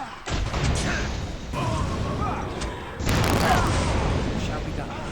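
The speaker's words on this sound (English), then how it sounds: "He's going to drop the bomb." Bomb explosions in the Dragon Age: Origins video game, several loud booming blasts landing about every second and a half amid crackling battle noise.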